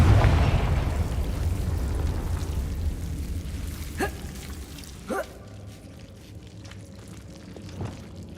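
A Confringo blasting spell erupts in Hogwarts Legacy with a loud low rumbling burst at the start that fades into a steady ambient hum, followed by a few sharp small pops and clicks, close and distinct.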